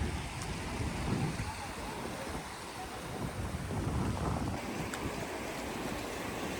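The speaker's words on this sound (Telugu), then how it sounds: "మినీ వాటర్ ఫాల్ అనుకోవచ్చు వాటర్ ఫ్లోయింగ్ బాగానే ఉంది ఇక్కడ" Rain-swollen water pours steadily over a mini waterfall in Araku Valley after early morning rain, a continuous broadband rush with some wind buffeting the microphone.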